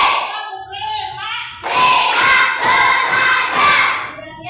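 Children in a classroom clap together in a loud, rhythmic round mixed with excited shouting, following a teacher's voice at the start.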